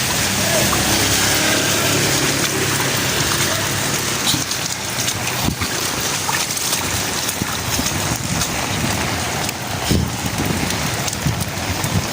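Heavy rain pours steadily on a national highway in Eastern Samar, a loud dense hiss of drops drumming on surfaces with no wind, and a voice speaks faintly underneath.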